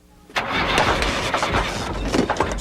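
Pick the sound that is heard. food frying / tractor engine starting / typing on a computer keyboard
tractor engine starting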